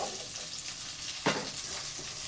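Onion frying in ghee with cumin seeds, cinnamon and curry leaves gives a steady, close sizzle, broken once midway by a sharp clack of a spoon against the pan.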